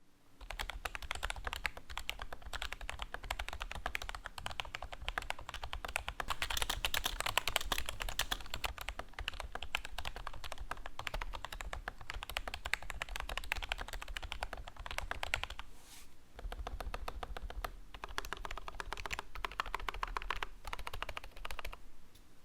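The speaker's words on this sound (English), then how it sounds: "I reassembled the keyboard and here's how it sounds like." Typing on a modded membrane computer keyboard: rapid, continuous key presses with dense clicky taps and a brief pause near the end, close and clear with no speech.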